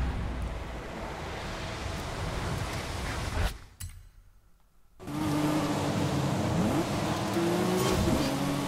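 Porsche 911 Carrera S races in Forza Horizon 5, a steady engine roar with gear-shift pitch sweeps and rushing road noise that drops out briefly before returning at full strength.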